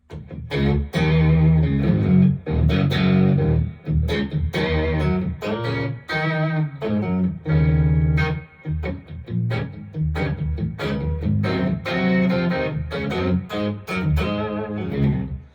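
Electric guitar played through a POG octave pedal, thick layered tones with a shimmering doubled pitch, loud and continuous riffing with short breaks.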